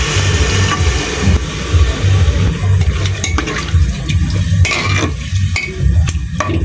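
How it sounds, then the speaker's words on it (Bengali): Water that rinsed a stone grinding slab is poured into masala frying in a pan, giving a loud, steady sizzle and bubbling hiss with stirring, heard alone without talk. "তো দিয়ে দিতেছি পাটা ধোয়া পানিটা।"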